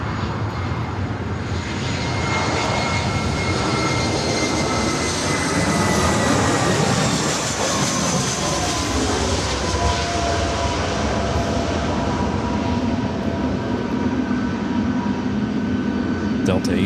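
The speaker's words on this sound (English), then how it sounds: "Back-to-back 757 and 300 aircraft takeoffs here on the north side." A Boeing 757 and another jet airliner take off back to back from the north side of LAX, a loud, sustained jet roar that swells and rolls on continuously.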